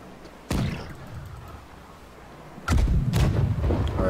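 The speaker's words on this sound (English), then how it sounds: "One more cannon shot" Ship cannons fire in the naval pirate game Blackwake: a sharp, booming blast, then after a pause a heavier, rumbling shot quickly followed by another, each decaying into low thunder.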